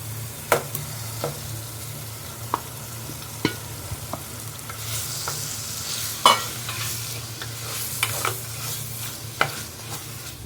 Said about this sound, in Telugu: ఒక 10 నిమిషాలు ఇట్లనే ఆయిల్లో ఉడకనియాలి.